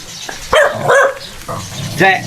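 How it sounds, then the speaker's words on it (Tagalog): Several dogs bark in short, sharp bursts nearby, a few barks spaced over a couple of seconds. "dami mga aso dito"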